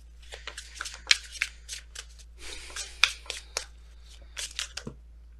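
Tarot cards being shuffled by hand, a run of quick crisp riffling bursts and slaps of card stock, close and fairly quiet, separated by short pauses.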